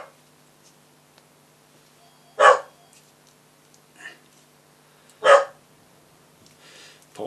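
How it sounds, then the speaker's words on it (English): A pet dog indoors gives two sharp, loud barks about three seconds apart, with softer yips or rustles in between, heard near and alone without talk. "Sorry about that, that's my dog."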